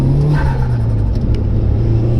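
A modified turbocharged Mitsubishi Evo 5 engine roars loudly as it accelerates hard, the low rumbling tone climbing steadily in pitch, close and without any talking.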